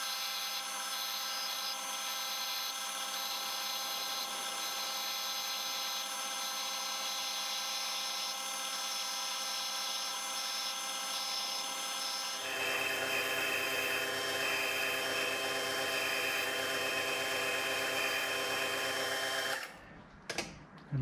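A metal lathe runs steadily with a high whine and mechanical hum, then the tone shifts and grows louder as a parting tool cuts into a hydraulic cylinder, ending with a brief clatter.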